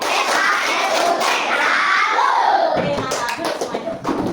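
Schoolchildren in a classroom doing a rhythmic salute clap, a busy burst of many small hands clapping with children's voices mixed in, ending in a looser spatter of claps.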